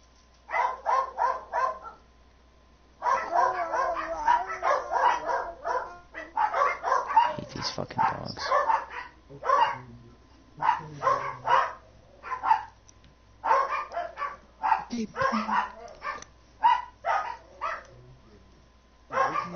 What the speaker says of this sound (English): Gonna have to put those dogs down